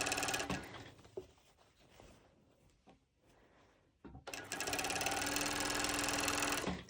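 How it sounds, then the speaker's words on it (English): Industrial cover stitch sewing machine stitching pole bottoms: a loud, steady mechanical whir near the start, then quieter handling clicks and fabric rustles, then the machine running fast and close again without pause for the last few seconds. "I do have an industrial cover stitch because I'm sewing quite a lot"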